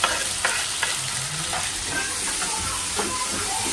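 Tomatoes frying in an old pan, a steady broadband sizzle with a few soft stirring scrapes and clicks, close and continuous, with no voices.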